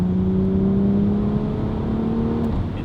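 A BMW X3 M with a Valvetronic Designs exhaust accelerates steadily, its engine drone rising smoothly in pitch under a constant loud roar for about three seconds, with no talking.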